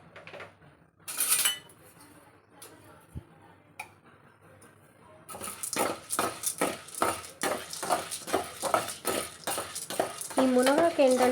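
Chana dal being fried and stirred in a pan, a stretch of metallic clinks and scraping strokes in a steady rhythm after a quieter start, close and fairly loud.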